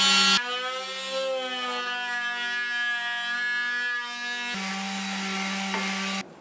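Oscillating saw cutting into a wooden stair at a custom landing, a loud steady buzzing drone that runs for about six seconds with a brief pitch change near the end, no talk.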